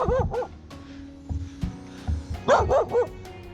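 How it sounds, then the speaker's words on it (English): A dog barks in yips and short bow-wows in bursts, near and fairly loud, on a mountain trek past village homes, with a steady hum underneath and no clear talk. "Don't bark now."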